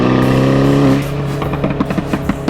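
An Audi TT driving on the road, its engine note loud and close, a steady drone that drops off after about a second into rougher, uneven road noise with light knocks.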